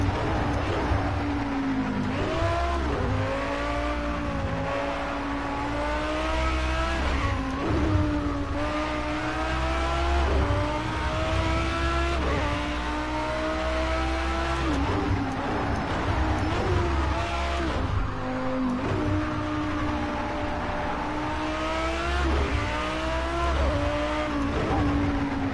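A Lamborghini race car at Spa in a racing game brakes hard into the Bus Stop chicane and powers back out, its engine note rising and falling continuously with tire squeal, loud and close throughout with no talk.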